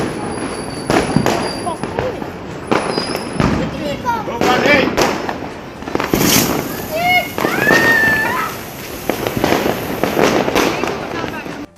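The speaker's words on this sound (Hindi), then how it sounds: "वो भी ध्रुव राठी भाई को टैग करके पटाखे फोड़ा।" Firecrackers burst one after another at a Diwali celebration, loud sharp bangs and crackles with whistling rockets rising between them, while people's voices carry underneath.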